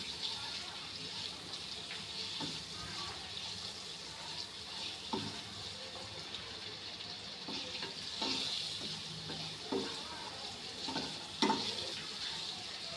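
Boiled eggs coated in masala, salt and chilli frying in a pan, a soft continuous sizzle with occasional stirring scrapes and knocks, fairly quiet and without talk.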